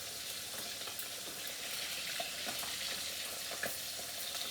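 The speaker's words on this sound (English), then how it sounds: "So I'm going to put a couple of the small ones to start frying them." Small fish frying in hot oil, a steady dense sizzle with occasional pops and crackles, close and continuous with no talking.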